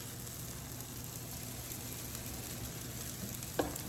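Ricotta blueberry pancakes frying in clarified butter, giving a soft, steady sizzle and crackle that stays low and even throughout, with one small bump near the end.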